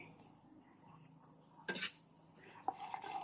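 Pork being stir-fried for a rabbit curry gives faint scraping and clinking from a utensil against a pan, with a louder clatter midway and soft sizzling underneath. It sounds quiet and close.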